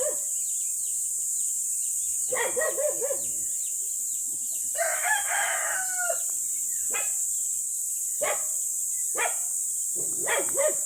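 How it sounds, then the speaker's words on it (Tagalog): Roosters crow repeatedly in long wavering calls, with chickens clucking between them and a dog barking nearby, over a steady high insect-like hiss. "may mga manok dito sa taas"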